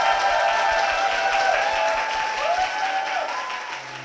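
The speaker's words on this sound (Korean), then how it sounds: "앞으로도 주님을 신뢰하며 걸으심으로 말미암아 주님의 일하심의 놀라운 역사를 간증하는 두 분 되실 수 있도록 축복의 박수 부탁드리겠습니다." A church congregation at Beautiful Dream Church in Korea claps in steady, dense applause for the full few seconds, with faint tonal music running underneath.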